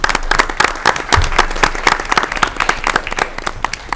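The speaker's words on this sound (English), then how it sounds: "They deserve a round of applause." Applause for the teachers at a school board meeting fills the room, a steady patter of many hands clapping that runs from start to finish at close range.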